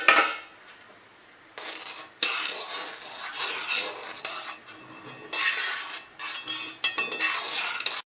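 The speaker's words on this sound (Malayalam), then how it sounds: "ഇടയ്ക്കൊന്ന് തുറന്ന് നോക്കി ഇളക്കി കൊടുക്കണേ." A spoon scrapes and clinks around a pot of semiya payasam in repeated stirring bursts, with short quiet gaps between strokes, close and alone with no talking.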